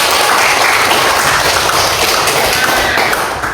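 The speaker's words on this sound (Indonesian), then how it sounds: "tepuk tangan dulu untuk mereka" A class of students applauding in a classroom, dense fast clapping filling the whole moment, loud and close, fading slightly at the end.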